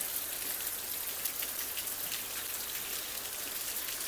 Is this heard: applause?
no